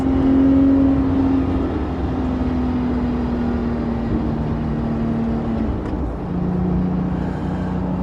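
A Porsche 997.2 GT3 RS drives with a loud, steady engine drone heard from inside the cabin, its pitch holding fairly level before a brief dip and a slight shift upward near the end, with constant road rumble underneath.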